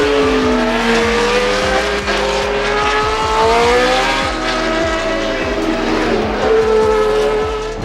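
Tyrrell P34 six-wheeled Formula One car, naturally aspirated 3.0-litre Ford Cosworth DFV V8, a loud high-pitched engine wail with rising and falling revs as it races past, continuous and close.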